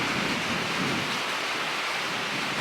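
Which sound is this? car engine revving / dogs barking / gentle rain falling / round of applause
gentle rain falling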